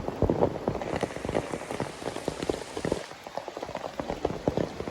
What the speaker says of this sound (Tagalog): Umulan na.